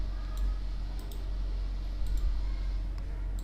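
Computer mouse clicks in software, several crisp, isolated clicks, a few in quick pairs, over a low steady hum.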